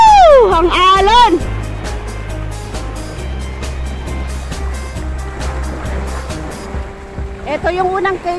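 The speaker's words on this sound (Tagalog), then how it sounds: "Ang lakas ng alon, guys." Strong sea waves surge and wash around a sea cave on a rocky coastline at Clear Water Bay, a low continuous rumble and churn close to the microphone, with a voice calling out briefly at the start and end.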